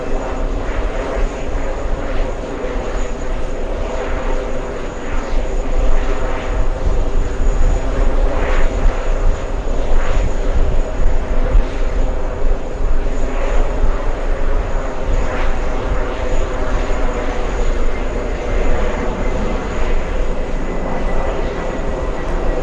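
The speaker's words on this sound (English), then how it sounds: "It looks like we have the A340, correction, A400 taxiing for takeoff as we speak" An Airbus A400 taxis for takeoff, its engines giving a loud, steady roar with a rumbling low end that holds without a break for more than twenty seconds, with no voices over it.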